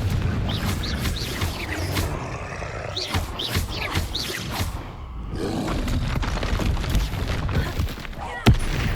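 Confringo spell blasts go off in Hogwarts Legacy combat against a troll, a dense, loud run of booming impacts and roaring bursts with a sharp crack near the end.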